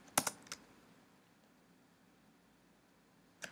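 A computer keyboard being typed on, a quick burst of a few close keystrokes at the start, then near-silence, then another couple of key clicks at the end.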